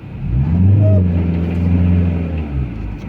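A Ford Focus engine revving steadily while the rear wheels spin in place with the handbrake pulled on, a loud sustained drone that rises and holds for a few seconds before easing off.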